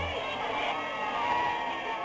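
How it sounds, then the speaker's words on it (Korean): A crowd in Europe cheers and shouts a welcome to Gandhi, a continuous distant roar of many voices with whoops, steady in level throughout. "유럽 사람들도 이렇게 방문을 굉장히 환호하면서 반겼다고 합니다."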